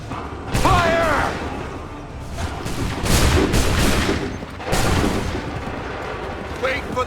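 Rolling musket volleys boom across an Assassin's Creed 3 battlefield, heavy, broad crackling blasts in a few waves, with a shouted voice early on.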